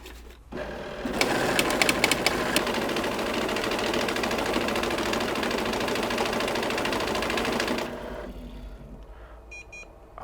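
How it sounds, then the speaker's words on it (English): An FC200 friction note counter feeds a stack of banknotes, giving a loud, dense mechanical whirring and rapid flutter that runs steadily for about seven seconds before cutting off, followed by a soft electronic beep. "So simply place your notes on and wait for the machine to count them."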